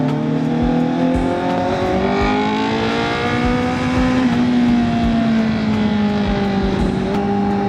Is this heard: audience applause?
no